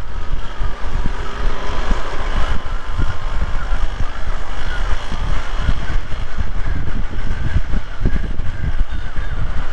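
Vespa scooter engine running by a roadside in South Sulawesi, a continuous low rumbling drone with uneven throttle flutter, fairly close and loud, no talking.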